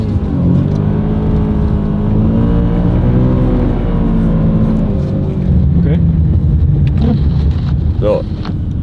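An all-wheel-drive Audi, BMW or VW car accelerates hard from standstill toward 60 on a snowy road, its engine droning and rising steadily under heavy wind and road noise inside the cabin, with a voice speaking over it.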